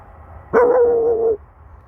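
A voice imitates a dog's bark, one drawn-out woof-like howl lasting almost a second, close and clear.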